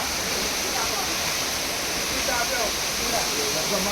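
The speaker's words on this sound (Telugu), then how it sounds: "చూడండి ఫ్రెండ్స్, వాటర్ ఫాల్." Constant roaring rush of the Rampa waterfalls, a broad steady wash of noise filling the whole clip with no pauses.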